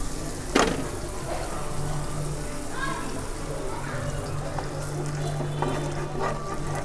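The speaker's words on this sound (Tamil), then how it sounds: "மிக்ஸ் பண்ணிவிட்டு இதுக்கு தேவையான அளவு தண்ணியும் நம்ம சேர்த்துக்கலாம்." Water splashes and trickles into a pan of dragon chicken sauce over a low background hum, with a brief clatter at the start and faint stirring sounds.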